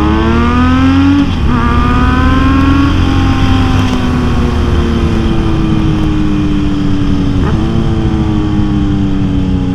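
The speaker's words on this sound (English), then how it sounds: "From behind, it definitely has that more classic inline four sound now, for sure." Kawasaki Z900RS inline-four motorcycle with an aftermarket pipe, loud and close, revving and pulling through gears with rising and falling engine tone, heard from behind while riding.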